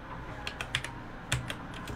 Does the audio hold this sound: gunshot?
no